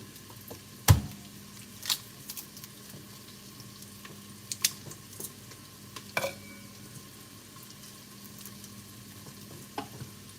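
Garlic and bacon sizzle quietly in a pan while being stirred, a faint frying hiss broken by a few sharp scrapes and taps of the utensil.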